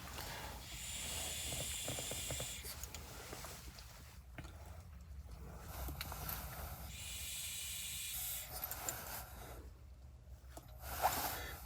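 Airy hissing inhales drawn through a Caliburn G pod vape with a 1 ohm coil and the airflow fully open, two long, soft, close draws separated by a quiet pause.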